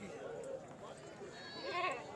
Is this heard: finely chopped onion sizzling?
no